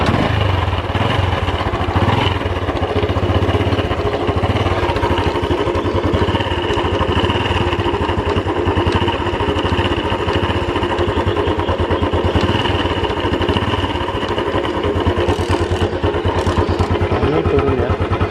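A Honda Revo Absolute motorcycle engine, suffering a slipping starter, idles roughly and unevenly close by, a steady clattering putter that runs unbroken for about eighteen seconds.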